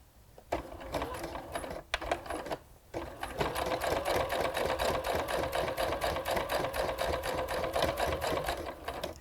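A sewing machine top stitches the edge of a fabric page corner bookmark at a longer stitch length, with a few short starts and stops, then a steady fast rhythmic whir and needle clatter, close up.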